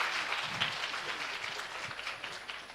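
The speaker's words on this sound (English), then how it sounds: "Give applause for Dr. Fahofa." Steady applause from a crowd, a dense wash of clapping that holds at even loudness throughout.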